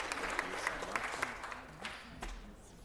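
Applause from the audience at a city council meeting as local school teams are honored: a faint, fairly short burst of scattered hand claps that thins out toward the end, with some background voices.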